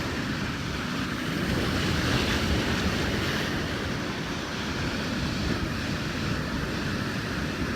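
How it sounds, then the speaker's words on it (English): Hurricane Dorian storm surge waves crash onto a beach at St. Simons, heard as a loud, continuous roar of surf mixed with heavy wind buffeting the microphone, with no voices. "Yep, another big wave."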